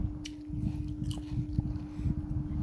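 Close crisp biting and wet chewing of small, bright red, slightly sour rose apples, with repeated crunchy bites and steady mastication, fairly quiet and without talk.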